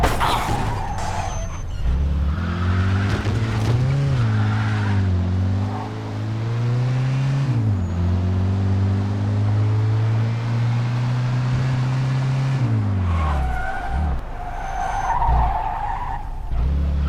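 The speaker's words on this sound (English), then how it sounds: "In pursuit of a speeding vehicle." A speeding car tears along during a police pursuit in Mafia II, engine droning loud and steady with repeated tire squeals and skids, and the pitch rising and falling as the car accelerates and brakes.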